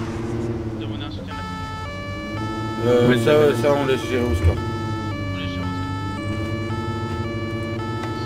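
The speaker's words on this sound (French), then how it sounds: "Petite sirène." Police car siren in the ARMA video game, a steady tonal wail held throughout, with a French voice speaking briefly over it and a short rumble of engine noise midway.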